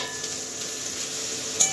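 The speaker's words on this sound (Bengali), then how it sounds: "আদাটা দেবো, দিয়ে ভাজবো" Ginger fries in a pan with a steady bright sizzle, close and moderately loud, with a few faint stirring taps and a sharper crackle near the end, no voices.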